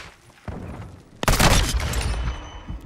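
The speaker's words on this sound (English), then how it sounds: "Oh, of course he sprints through as I throw a flashbang" A flashbang grenade detonates in Call of Duty MW2, cutting in with a sudden loud bang after a quieter stretch of game noise and then trailing into a dense ringing, crackling wash.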